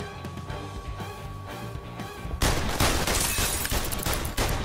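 Gunfire in the VR game London Heist: rapid bursts of shots crackle loud and dense after a calmer stretch of game sound, repeating in quick volleys.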